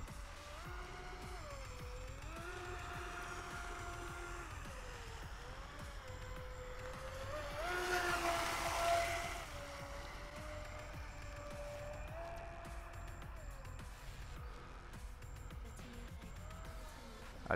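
A Volantex Vector SR80 Pro RC speedboat runs on water with a high electric motor whine that rises and falls as the throttle changes, plus a brief louder splashing surge midway, steady at moderate distance.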